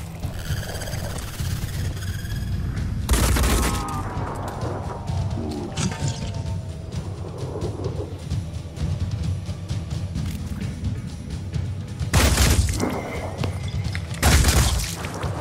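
Gunfire in the video game Phoenix Point, with several loud booming bursts standing out over a constant rumbling battle background, the sharpest blasts arriving near the start and twice toward the end.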